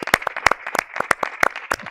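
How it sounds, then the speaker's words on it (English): Sparse, spaced claps from a small remote group at an online pitch-event closing ceremony, distinct individual hand claps rather than a full crowd, fairly close and clear. "I think we should maybe have a big round of applause"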